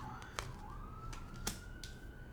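An ambulance siren wails faintly at a distance in a steady rising tone, with a few sharp clicks over it.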